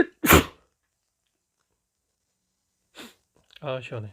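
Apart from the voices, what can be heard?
sneeze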